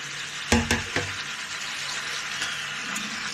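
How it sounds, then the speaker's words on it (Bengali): Tomatoes drop into a pan of frying ginger and garlic and set off a sharp sizzle, followed by a few clinks of a utensil and a steady frying hiss close by. "আদা রসুনের পর টমেটো দিচ্ছি।"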